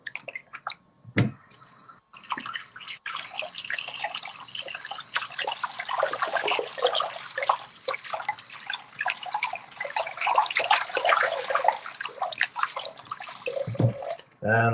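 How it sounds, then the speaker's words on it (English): Water splashing and dripping in a sink as sneakers are dipped and washed, close and continuous with sloshing and trickling, and a few brief gaps and knocks. "I just dip them in the sink with a little bit of water"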